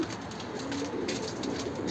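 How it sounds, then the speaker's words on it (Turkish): Tumbler pigeons in flight coo softly over a steady outdoor hum, the calls close and repeated in a short, continuous burst with no talking. "Bakın döneklerimiz uçuyor."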